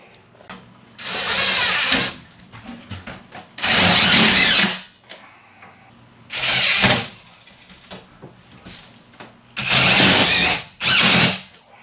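Power drill driving screws up into the roof of a snowmobile trailer's storage cabinet: five loud whirring bursts of a second or two each, separated by quiet gaps with light handling clatter.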